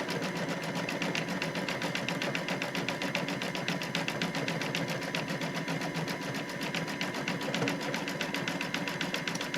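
An embroidery machine stitches a satin-stitch circle on an in-the-hoop mug rug, a rapid, even mechanical pulsing that runs unbroken and close throughout with no talk.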